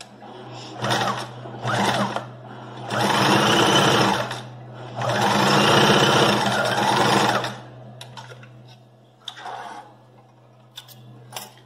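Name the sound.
sewing machine stitching a straight seam on a pocket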